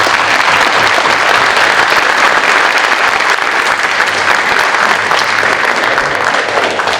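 Sustained audience applause fills a middle school academic honors ceremony, a dense, steady wash of many hands clapping loudly and evenly throughout, with no voices standing out.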